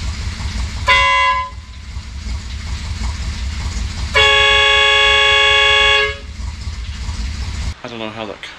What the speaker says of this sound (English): you can also hear the stock horn, which was dying.